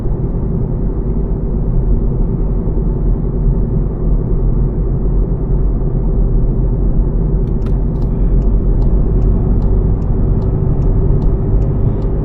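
A Volkswagen Golf cruises on a motorway with adaptive cruise control engaged, giving a constant deep road and engine rumble inside the cabin; a regular indicator ticking starts partway through.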